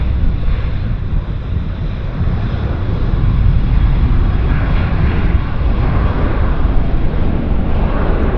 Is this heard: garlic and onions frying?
no